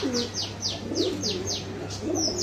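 Pigeons coo softly and repeatedly nearby, mixed with a series of quick, high chirps over a low steady hum.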